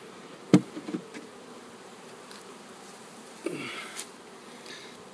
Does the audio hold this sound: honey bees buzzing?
yes